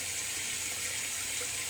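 Cold water runs from a bathroom tap in a steady, close hiss of flowing water with no talking.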